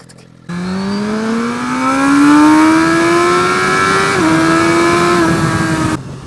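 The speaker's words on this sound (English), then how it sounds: "The engine's got this unique clicking to it," A Suzuki GSX-R1000R motorcycle engine revs up and pulls hard for several seconds, a loud rising engine note with a brief dip mid-run, close and alone with no talk.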